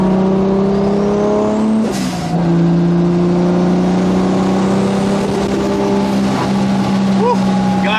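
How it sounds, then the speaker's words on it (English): Toyota Supra engine heard from inside the car, a loud, steady droning note that briefly dips, with a short whooshing hiss of the blow-off valve between rising runs, and some wind noise. "Love that blow-off valve too. It just sounds so nice."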